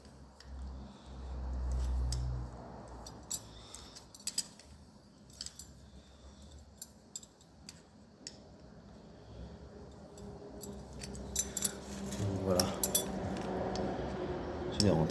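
Multi-grip pliers pressing a door stopper part back into place on a Nissan 350Z door, heard as scattered metallic clicks and clinks with a low thump early on, close by in a quiet workshop.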